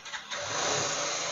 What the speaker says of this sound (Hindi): इग्निशन ऑन करता हूँ।